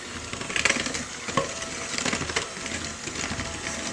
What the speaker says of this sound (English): So we're going to mix till it gets thick.